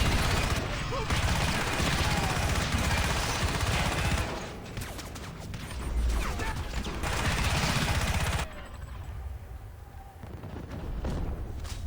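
Sustained suppressing gunfire in the video game Crysis Remastered, loud continuous automatic bursts with explosions that drop off sharply partway through, leaving quieter scattered shots, with a voice calling out over the noise.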